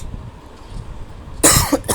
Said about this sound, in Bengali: আজকে যে কেন জানি কাশি হইতেছে বুঝতেছি না